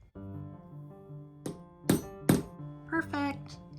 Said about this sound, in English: Now I just need to finish hammering the nails in.